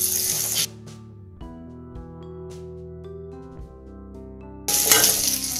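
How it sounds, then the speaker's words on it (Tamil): Onions and curry leaves sauté in a pan for Chettinad fish curry. A loud, hissing sizzle opens and closes the moment, and a calmer stretch of steady tones sits between the two bursts. "இது வந்து வெங்காயம் நல்லா வதங்கட்டும்."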